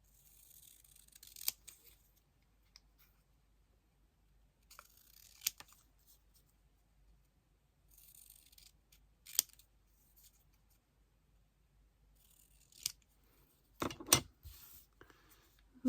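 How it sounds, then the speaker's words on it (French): Scissors cutting paper for scrapbooking, heard as sparse, faint snips spaced a few seconds apart, with a cluster of sharper cuts near the end against a quiet room. "Je vais essayer au ciseau, mais je suis pas très douée pour"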